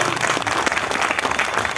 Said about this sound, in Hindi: जोरदार ताली बजेगी जरूर